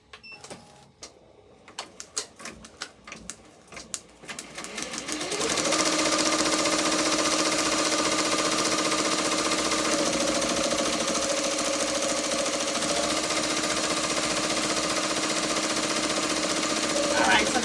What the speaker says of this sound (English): I'm going to hold the topping down until it gets a good stitch on top of that